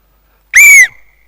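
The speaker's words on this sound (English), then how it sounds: "You're going on the whistle." A coach's whistle at a rugby training session gives one sharp, loud blast, about a third of a second long, to start a running sprint drill, with a short tail and no talk around it.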